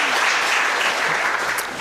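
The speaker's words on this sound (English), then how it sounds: "We also clap for him, please." A crowd at a scientific conference claps steadily and loudly throughout, a dense wash of applause with no pauses.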